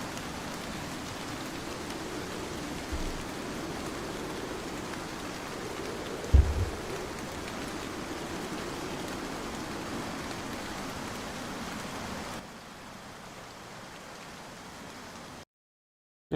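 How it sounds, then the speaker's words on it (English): Heavy rain pours steadily as a dense, constant hiss with one brief thump partway through, then drops quieter before cutting to near silence at the end. "The rain is too loud."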